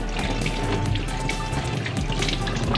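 Water sprays from a newly installed faucet set to its shower-like spray mode, a steady close hiss and patter into a sink that runs without pause, with no talking.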